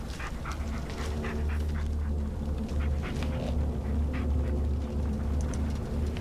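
Dog in the horror game Blair Witch, panting and whimpering close by over a low droning hum, with short breathy yelps scattered through.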